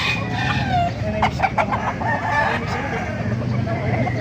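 A year-old Hatch gold gamefowl rooster at a market clucks and crows nearby amid a loud, busy crowd of voices and other birds, with people talking throughout.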